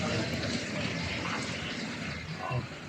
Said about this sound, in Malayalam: അപ്പോൾ സ്പെഷ്യൽ ചായയാണ് ഒഴിക്കുന്നത്